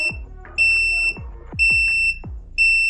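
A heat press sounds a high electronic alarm-like beep three times in steady succession, each tone held for about half a second, loud and close, with thuds and clatter between the beeps.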